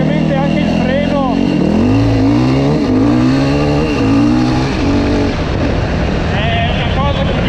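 A Yamaha WR 450 four-stroke enduro motorcycle engine revs up and down in repeated rising and falling sweeps, loud and close, with a voice talking underneath.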